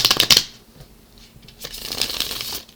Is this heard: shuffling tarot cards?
yes